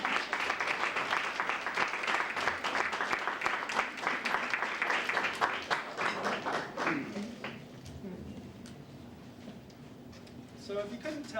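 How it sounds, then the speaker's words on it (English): Crowd applause for Glendora at a live talk-show taping, dense clapping that holds strong then thins out toward the end, with a voice speaking under the fading claps. "let's give Glendora 2 minutes of applause"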